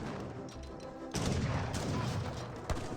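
Musket and cannon gunfire striking a fort in the Age of Empires 3 strategy game, quiet clatter and then a burst of dense crackling shots with a sharper report near the end, with no voices.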